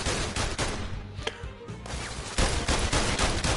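Video game gunfire in PlayStation VR Worlds, a dense run of rapid shots rattling continuously with a short lull in the middle, loud and close.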